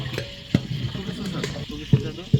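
Potato mash being stirred and cooking in a large pot for a big communal feast, with soft scraping and bubbling plus a few sharp knocks of the stirring tool against the pot.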